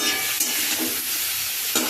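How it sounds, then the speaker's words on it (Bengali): Boiled pulses stir-fried in a little oil crackle and sizzle in a pan, with a spatula scraping and stirring at close range in a short, steady burst and no talking. "এই যে সেদ্ধ কড়াইগুলো এভাবে ভেজে নিচ্ছি ছাঁকা তেলে নয় অল্প তেল দিয়ে"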